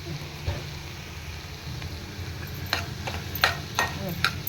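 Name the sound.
sautéing onion, tomato and bombil (Bombay duck) in a pan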